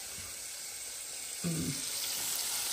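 Chicken pieces fry in a pan with a continuous hissing sizzle, broken midway by a short low thud or stir before the steady crackle carries on.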